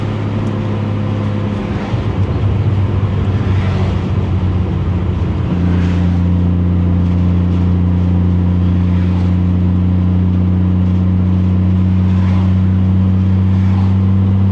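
A 1989 Toyota Supra creeps along at low speed, its engine holding a steady, loud droning hum with a slight shift in pitch partway through, heard from inside the cabin with no talking.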